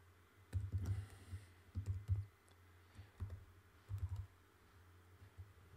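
Bursts of typing on a computer keyboard, quiet, close clicks in short irregular flurries separated by pauses, with no talking.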